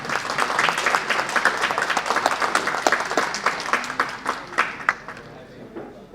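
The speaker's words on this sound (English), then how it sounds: "Let's give him a warm round of applause" Steady applause from a conference audience, many hands clapping together with sharp individual claps standing out, gradually thinning toward the end.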